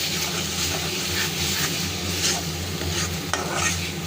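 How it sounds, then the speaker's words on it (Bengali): Poppy seed and onion masala stirred and fried in a pan for a Bengali hilsa recipe, with a steady close sizzle and continuous scraping of the spoon, no talk. "মশলাটা আমি ভালো করে কষে নেব"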